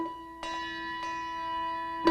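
Handbell struck into foam padding under tablecloths during a school choral Christmas concert, giving a few dull percussive strikes with a sustained ringing tone between them, close and moderately loud.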